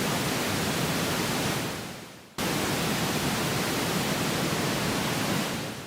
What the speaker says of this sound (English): And then bring up the noise on Cherry Audio.